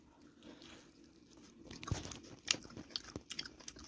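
Biting and chewing a chicken leg piece at an evening village feast: a few faint, close crunches and wet chews, clustered in the second half over a low background hum.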